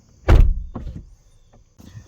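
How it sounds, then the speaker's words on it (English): Pressing the electronic door release button on a Corvette C6 Z06 gives a loud, close thunk as the latch pops, then a softer mechanical whir and a couple of faint clicks as the door swings open. "To open the door, you press this little button. It unlocks the door and lets you out."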